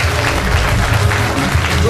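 A church congregation claps together in praise, a brief dense burst of applause with voices mixed in.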